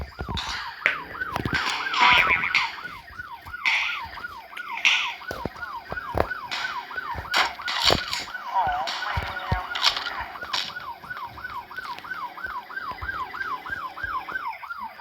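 Police car siren wailing in a steady rapid up-and-down cycle, loud and close throughout, with scattered clatter and bangs over it.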